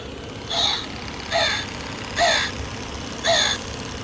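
A Home Depot 2024 animatronic Halloween crow toy gives four short electronic caws, evenly spaced about a second apart, each a brief harsh burst over a low steady background hum.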